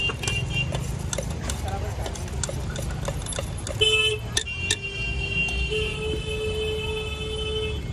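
Busy road traffic runs past a Srinagar street food stall: a steady rumble of cars with several sharp horn toots scattered throughout, close and loud, while someone talks over the din.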